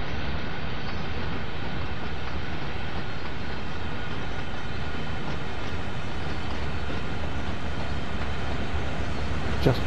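A freight train in Train Sim World 2 rolls over points on Sand Patch Grade, a steady continuous rumble with faint clickety-clack and a brief squeal near the end, heard from the cab with no talk.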